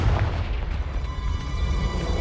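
Confringo, an explosive spell from Hogwarts Legacy on PC, lands as a loud rumbling blast with heavy low boom and a sustained roar that stays dense across the whole moment.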